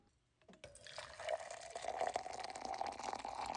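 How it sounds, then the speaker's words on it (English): Water heating for morning coffee aboard a boat anchored at sea, with a steady watery rush that builds within the first second and holds close and fairly loud to the end, no voices. "We boil some water."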